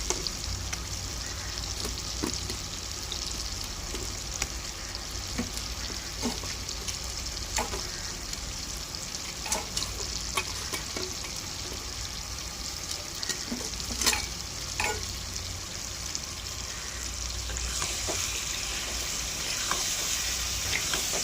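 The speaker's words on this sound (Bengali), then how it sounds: "ভালো করে আমি মশলাটাকে আমের সঙ্গে কষিয়ে নেব" Mango pieces fry with ginger-garlic paste in a pan for pickle, with a steady close sizzle broken by frequent stirring scrapes and clicks throughout.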